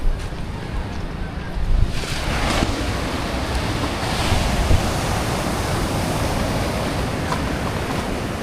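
Sea waves washing onto a shore under a steady gusty wind, a continuous broadband wash with a few louder surges, close and fairly loud, no talking.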